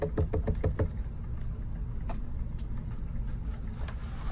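A small tumbler cup turner motor runs with a low, steady hum, preceded by a quick series of knocking taps at the start and a few faint clicks scattered through the continuous whir.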